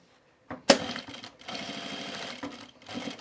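A sewing machine stitches a narrow seam on a bag, running in a few quick bursts of rapid mechanical chatter with short pauses between them, close and clear, without any voice.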